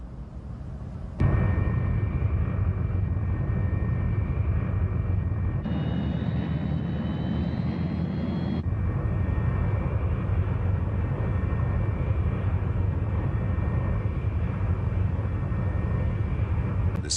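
Steady, loud roar of a Messerschmitt Me 262 jet aircraft engine running continuously, with a sustained whine and broadband rumble that shifts slightly in tone partway through.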